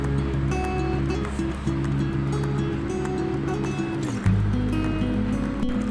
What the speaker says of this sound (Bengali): এখন মশলাগুলো নেড়ে চেড়ে কষিয়ে নেব।